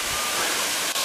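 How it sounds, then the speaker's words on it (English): Sengdip waterfall in Papua New Guinea, about 4 meters high, roars as a loud, steady broadband rush of falling water close by, with no talking. "That's the waterfall there."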